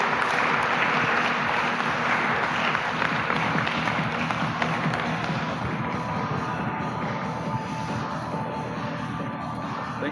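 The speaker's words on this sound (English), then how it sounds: "Give them a round of applause" Sustained applause from a conference crowd cheering CTF competition winners at a security event closing ceremony, dense steady clapping filling the hall, slowly easing toward the end.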